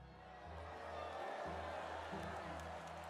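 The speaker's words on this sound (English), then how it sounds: "The cheering of the crowd" A crowd in the video game The Life and Suffering of Sir Brante cheers as a steady, blended roar. The cheering stays moderate and continuous over low, droning background music.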